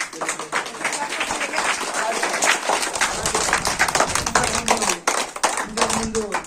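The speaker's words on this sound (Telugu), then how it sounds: "మన ముఖ్యమంత్రి గారికి లోకేష్ అన్న గారికి క్లాప్స్ కొట్టి ధన్యవాదాలు తెలియజేస్తూ" A crowd at a primary school parents' meeting claps in thanks, a dense, fairly loud patter of many hands that runs throughout with brief dips, and voices can be heard with it.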